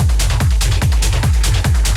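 Loud electronic dance track with a punchy four-on-the-floor kick, a throbbing bassline and bright hi-hats and synths over a steady driving beat.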